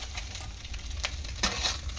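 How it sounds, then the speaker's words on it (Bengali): Small fish frying in hot oil in a pan, with a steady low sizzle and a few louder crackling bursts near the middle, close and without talk. "মাছগুলো সব একসাথে ভেজে নেবো।"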